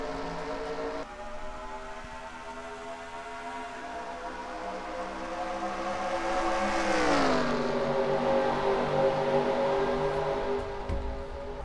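Pack of race cars in a sim-racing game at Darlington roaring off at the green-flag start, engines droning and rising in pitch together as they accelerate, steady and loud with no talk.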